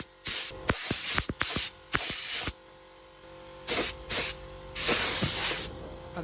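An aerosol can spray-paints a Ford Escort engine in the car, with short hissing bursts at first, then longer sustained sprays separated by pauses, close and loud.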